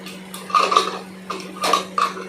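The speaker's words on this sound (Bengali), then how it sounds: "তারপর সেটাকে ভালোভাবে নাড়াচাড়া করলাম যাতে মশলাগুলো আলুর মধ্যে" A spoon scrapes and clinks against a pan while stirring potatoes with spices for ghugni, several bright metallic taps in quick irregular strokes over a steady low hum.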